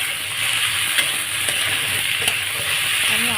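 Diced potatoes fry in a pan with a continuous, fairly loud sizzle and crackle, steady throughout with a few faint scraping knocks.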